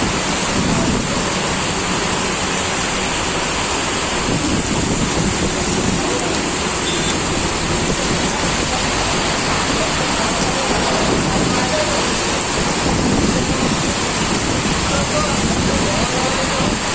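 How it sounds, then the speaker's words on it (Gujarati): Heavy rain pours down outdoors as a dense, unbroken rushing hiss that stays loud and constant throughout. "જોરદાર વરસાદ આવ્યો."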